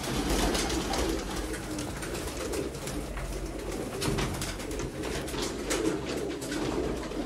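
Sialkoti pigeons cooing in a flock kept for a pigeon-flying game, soft repeated coos layered over a steady background hum, with no voices.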